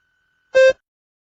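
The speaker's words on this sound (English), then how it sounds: "Begin to prepare your response after the beep." A single short electronic beep sounds once in near silence, abrupt and clear.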